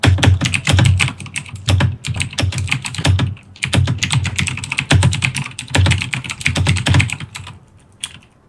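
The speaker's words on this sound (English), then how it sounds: "normally I have push to talk, so you can't hear my keyboard going crazy" Computer keyboard typing in fast, busy bursts of clattering keystrokes with brief pauses, close by and fairly loud, no talking.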